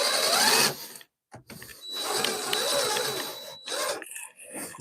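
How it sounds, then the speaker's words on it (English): Screws are worked out of a rotten wooden shed floor with a tool, giving loud, close scraping and grinding bursts with a short pause partway through. "gonna try to remove these screws."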